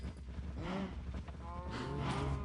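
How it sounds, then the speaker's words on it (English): Cows in a Minecraft herd moo, two long drawn-out lowing calls one after another over a busy background, moderately close. "A lot of cows, actually."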